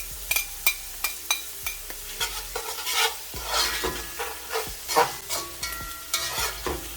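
Pimento peppers, hot pepper and garlic sauté in a pan with a close, crackling sizzle, broken by frequent scrapes and taps of a spoon stirring against the metal.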